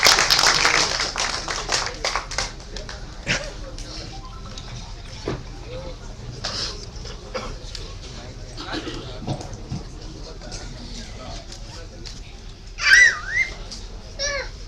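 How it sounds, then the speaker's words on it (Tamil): An audience at a stage event greets a comedy actor with a burst of clapping at the start, then scattered claps and crowd noise with voices, and a sharp, loud whistle near the end. "comedy actor doctor Senthil sir அவர்களை உங்கள் கைத்தட்டல்களுடன் மேடையில் பேசுவதற்காக வரவேற்கிறோம்"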